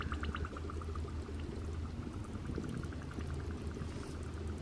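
Continuous soft fizzing and bubbling of liquid, close by, with a steady crackling texture and occasional faint ticks.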